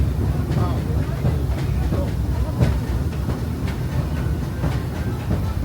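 A Disneyland Railroad ride train rolls steadily along its track, a loud, continuous close-up rumble with clacks and knocks from the rails breaking through at irregular intervals.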